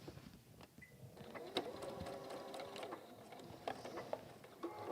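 A sewing machine stitches a messenger bag in a workshop, its motor whirring in a steady mechanical run with short pauses and restarts across the five seconds, up close and fairly loud.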